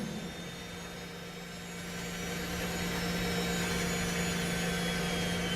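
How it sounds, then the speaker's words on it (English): A Formula 1 race car engine in F1 Manager 24 at Interlagos drones with a glitchy tone, a steady harsh whine that slowly swells louder and holds, with no other sounds over it. "Very weird to hear an engine glitch out at a circuit that isn't Vegas like this."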